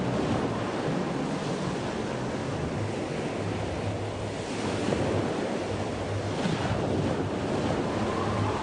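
Ocean swell and surf break over a reef at Angelina Rock during a dive, a continuous loud roar of rushing water with heavy wind noise buffeting the microphone throughout and no voices.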